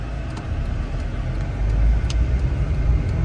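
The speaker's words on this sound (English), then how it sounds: "there is so much fucking traffic" Heavy road traffic passing through a small town: a constant low rumble of car engines and tires that swells slightly toward the end, no voices.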